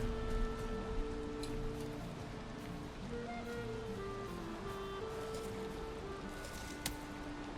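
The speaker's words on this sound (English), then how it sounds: "Okay, it's raining everywhere." Steady hiss of rain falling across the world of the video game Valheim, a continuous wash of patter with soft in-game music tones running beneath it.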